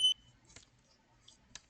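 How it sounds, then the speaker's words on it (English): A smoke or fire alarm gives one short, sharp high beep, followed by faint, scattered clicks and small sounds in an otherwise quiet room. "Is that a fire Okay, alarm?"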